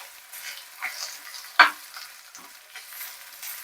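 Sliced onion, garlic, green chilli and curry leaves frying in a pan for potato upperi, a soft steady sizzle with a few brief stirring clatters, no voices.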